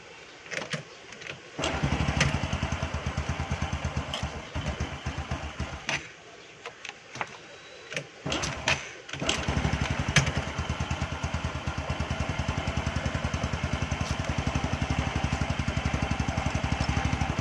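A Honda Wave 125 motorcycle engine sputters and catches after a couple of stop-start attempts, then settles into a steady, close, rattling idle.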